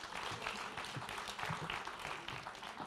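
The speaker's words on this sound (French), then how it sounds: "On peut les applaudir également." An audience at a forum applauds the round-table guests as they come on stage, dense even clapping from a crowd held steady throughout, with no speech over it.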